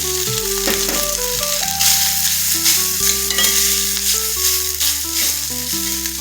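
Cooked rice is stirred into fried cumin seeds and curry leaves for jeera rice, with a constant crackling sizzle and rattling spoon strokes against the pan. Background music plays along.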